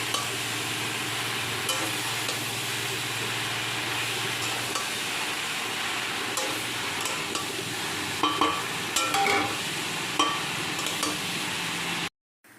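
Chopped bottle gourd sizzles steadily in a hot pan while being stirred, with a few scraping clinks of the utensil, continuous and close, then cutting off abruptly at the end; no talking.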